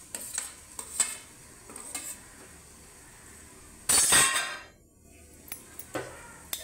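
Mashed boiled potato stir-fried in a pan for sabudana khichdi, with scattered clinks and scrapes of a utensil against the pan and a loud, brief scraping burst midway.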